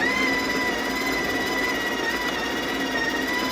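Breville Barista Express espresso machine's built-in grinder grinding coffee beans: a steady, loud whirring grind with a high motor whine, close and continuous, with no talking over it.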